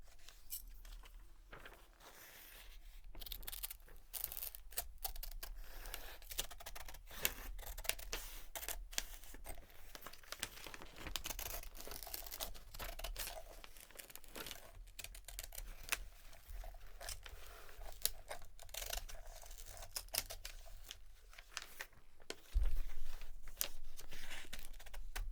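Scissors cut a photo out of a glossy magazine page with many close, crisp snips and paper rustles in an irregular rhythm, soft and intimate, followed by a louder handling thump near the end.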